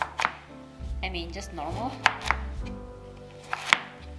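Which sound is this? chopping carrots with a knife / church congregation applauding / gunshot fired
chopping carrots with a knife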